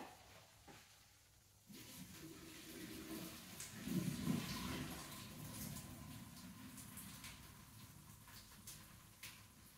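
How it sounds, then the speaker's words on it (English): Hot pasta water poured out of a pot past its lid, used as a strainer, a steady close rush of draining liquid that swells midway, then settles into a continuous trickling hiss. "I just get the lid back on and pour the water out."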